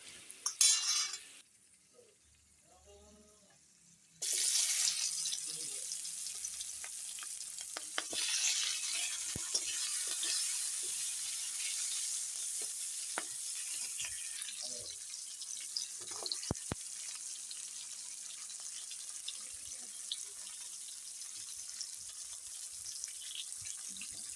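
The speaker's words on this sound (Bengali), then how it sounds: "পরে পেঁয়াজ ভাজবো" Onions fry in hot oil in a pan, a faint, steady sizzling hiss that starts abruptly after a brief quiet stretch, then crackles on evenly with small pops.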